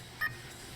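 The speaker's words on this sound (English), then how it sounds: "listen for the beep and the sound of the register" A Toys R Us register's barcode scanner gives a single short, clear electronic beep over faint store background, with no voices.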